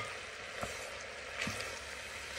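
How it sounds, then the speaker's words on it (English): Steady soft sizzling of onion frying in a pot over medium-high heat, with a couple of faint clicks of a utensil; no voices. "we're going to keep frying this over a medium-high heat until the onion softens a little bit"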